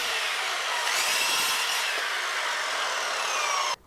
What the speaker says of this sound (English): I used my zero clearance fence to help keep the cuts nice and clean